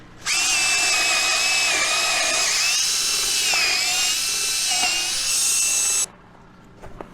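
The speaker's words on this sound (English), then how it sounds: "Got it drilled out." Power drill boring out a hole on a farm, a loud continuous high whine held for about six seconds, then stopping abruptly into quiet.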